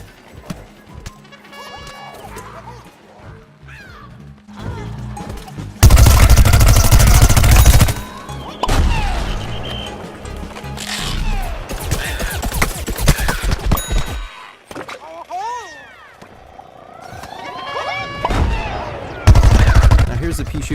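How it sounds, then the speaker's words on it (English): Rapid pea-firing Gatling attack from the Peashooter in Plants vs Zombies: Garden Warfare, loud dense bursts of repeated shots alternating with quieter game effects and chirpy sounds, with a voice talking in between. "Here's the pea shooter using the Gatling attack again."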